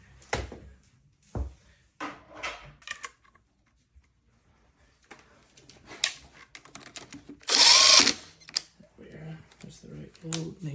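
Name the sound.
undoing stem bolt on Surron Light Bee X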